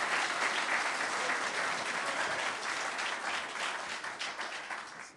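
An audience fills a mosque dedication with a warm, sustained round of applause, many hands clapping together in a broad, even roar that slowly fades toward the end, heard faintly at a distance.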